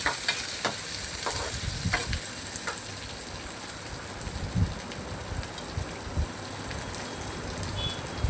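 A soft, even sizzle of finely chopped onion and curry leaves sautéing in a pan, with a few light scrapes and clicks of stirring; no one speaks.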